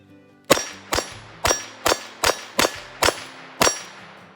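A Smith & Wesson 317-3 revolver in .22 LR fires eight sharp, loud shots in quick succession, each crack ringing briefly before the next, with no talking.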